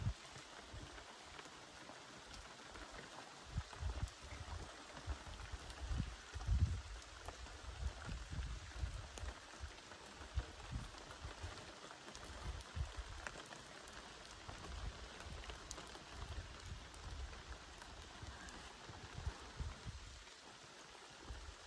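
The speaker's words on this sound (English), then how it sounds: "Sure is raining." Steady rain falling outdoors in the New Brunswick wilderness, pattering on surfaces from a spot up in a moose stand, a continuous even wash with low rumbling gusts and no voices.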